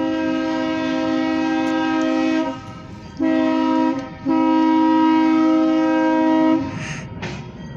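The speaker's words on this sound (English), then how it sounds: "We got a very short grain hopper train with the Alco 85 unit lading." Loud, sustained blasts of a locomotive horn from an Alco unit hauling a short grain hopper freight train, three long blows broken by brief gaps, over a rumbling train, fading near the end.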